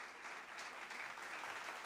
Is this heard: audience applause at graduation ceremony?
yes